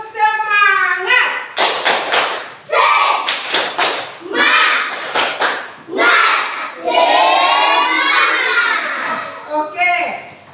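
A classroom of children performs a rhythmic group clapping chant, with bursts of sharp unison claps alternating with chanted voices, loud and close, repeated in several rounds.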